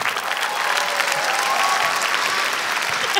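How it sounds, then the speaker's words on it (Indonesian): Audience applause for the comedian Alip at a stand-up comedy competition show, a loud, dense, steady clapping from a large crowd that fills the whole stretch without a break. "Yeay, tepuk tangan buat Alip"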